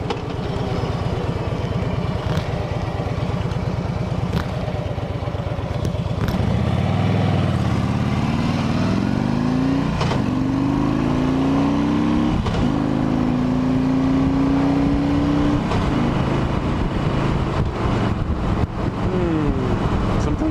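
A 2008 Harley-Davidson Ultra Classic motorcycle cruises along a road on a daily commute, its engine droning loud and steady throughout, with gear shifts and rising and falling revs as it accelerates.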